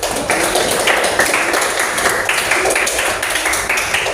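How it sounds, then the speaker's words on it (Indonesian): An audience at a church youth gathering claps hands together in a dense, steady round of applause lasting several seconds, with no talk over it. "tepuk tangan dulu semuanya"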